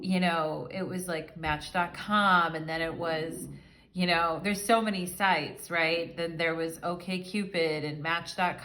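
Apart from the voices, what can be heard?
None of the usual background noises is heard.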